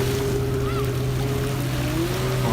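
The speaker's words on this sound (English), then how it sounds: "It's splashing me nearly on every wave now" Waves slapping and splashing against a small boat under way, over a steady motor drone, with a constant wash of water and wind, loud and close.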